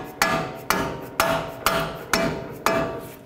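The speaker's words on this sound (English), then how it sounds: "You can drive them in with your hammer or rubber mallet" Six evenly spaced, sharp metallic hammer strikes as bolts are driven into the steering knuckle of a 2007-2010 Chrysler Sebring during a front CV axle replacement, loud and close with short ringing decays and no talking.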